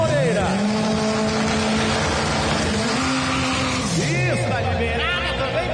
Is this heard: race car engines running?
yes